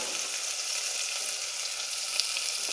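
Onions frying in oil with black cardamom, bay leaf and cinnamon for restaurant-style chhole, a steady close sizzle that holds evenly throughout with no voices.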